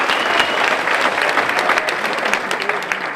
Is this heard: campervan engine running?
no